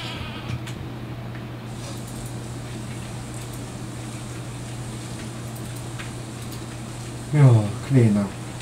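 Two short sheep bleats from the Stardew Valley farming game come right at the end, over a steady hum of game music and background noise, with a person talking throughout.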